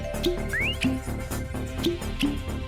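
A character in the Garten of Banban video game whistles in short rising and level notes, several bursts in quick succession over a low game background hum.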